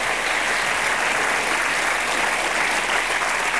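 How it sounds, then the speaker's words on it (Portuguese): Loud, sustained applause from a large audience fills the whole stretch at a televised Portuguese event honouring young people, steady and dense with no voices breaking through. "Salva de palmas para os jovens"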